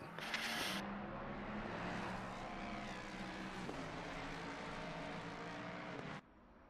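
A steady racing car engine drone with a sustained whine in Assetto Corsa Competizione at Oulton Park holds for about six seconds, fairly loud and continuous, then cuts off abruptly near the end.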